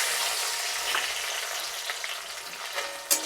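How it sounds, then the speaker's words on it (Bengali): Tomato frying in hot oil over a low flame, a steady close hiss of sizzling with a few soft crackles and a brief stir near the end, no voices. "এটা ভালো করে ভেজে নেব লো ফ্লেমে"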